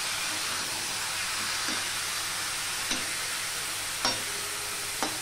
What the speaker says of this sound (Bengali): দিয়ে আমি আবারও নেড়ে চেড়ে কষিয়ে নেব।